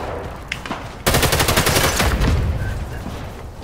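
Loud, dense burst of rapid automatic gunfire in the Sniper Elite 5 video game, a sustained rattling volley starting abruptly after a quieter lead-in and continuing to the end.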